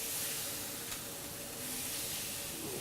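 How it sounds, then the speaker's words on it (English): Calamari frying in hot oil in a pan gives a steady, close sizzling hiss that holds evenly throughout without any talk. "It's a nice sizzling there."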